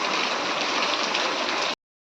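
Heavy rain pours steadily in a dense, loud hiss with no letup, then cuts off abruptly.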